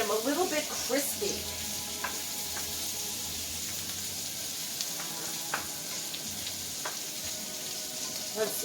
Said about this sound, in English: These I'm going to saute to get them a little bit crispy